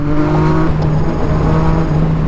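Cars, including Porsches, rev loudly on a Kadıköy street at night, a dense, steady engine roar close by with a higher whine joining partway through.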